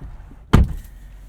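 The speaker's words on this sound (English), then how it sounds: "Oh yes, listen to that door close." A car door on a 2021 Mercedes-Benz GLA250 4MATIC shuts with a single solid, close thud, with a quiet interior before and after.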